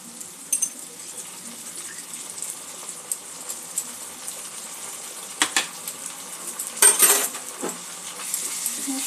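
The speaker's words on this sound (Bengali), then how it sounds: "মশলাগুলো একটু নাড়াচাড়া করে নেব।" Spices with ginger-garlic paste stirred in a pan for a green moong and potato curry, giving soft scraping and sizzling with intermittent utensil clinks and a louder burst near the end, close and moderately quiet.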